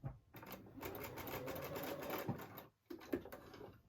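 A sewing machine stitches fabric for a baby quilt, its rapid needle chatter running steadily and close up for over two seconds, pausing briefly, then starting again.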